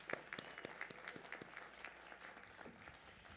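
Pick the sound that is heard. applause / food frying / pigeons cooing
applause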